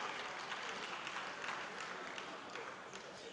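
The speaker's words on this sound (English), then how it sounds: "One round of applause for her." An audience at an FNAC 2025 event claps for an honoree, a dense, steady wash of applause that stays fairly even for the full stretch before easing slightly at the end.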